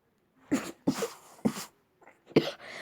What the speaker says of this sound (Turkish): Pardon arkadaşlar öksürdüm.